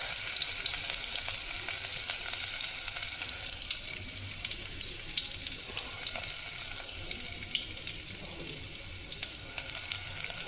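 Onions go into a hot pan for aloo gosht and fry with a steady, continuous sizzle and crackle, close and moderately loud, with faint clatter and no talking.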